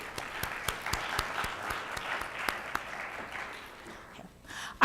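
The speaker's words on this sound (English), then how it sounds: "please give Ramon another round of applause" A smaller, looser round of applause for a contestant at an MLK oratorical contest, with distinct individual claps standing out over moderate crowd clapping that thins and fades near the end.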